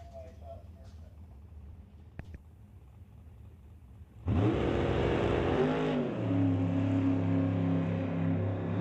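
A 1986 Mustang drag car with a 584 cubic inch Ford engine launches at an NHRA divisional drag race at Mission Raceway. After a quiet stretch the engine bursts in, loud and close, and roars steadily to the end.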